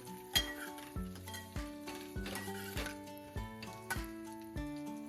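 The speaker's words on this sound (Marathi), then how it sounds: "ह्यामध्ये ना मनुके आहेत ते घालून घेऊयात आणि हे पण दोन मिनिटं परतून घेऊया" Dry fruits and raisins being roasted in a pan for rice kheer, with a spoon stirring and scraping the metal pan in a regular rhythm of about one clink per second over a faint sizzle, heard close and quiet.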